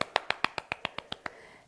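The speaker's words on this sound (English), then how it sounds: "so I want to applause. This is for everybody." One person claps about ten times at a quick, even pace as applause for puzzle championship competitors. The claps are crisp and fairly faint, with no talking over them.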